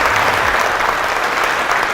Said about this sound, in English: thanks for the claps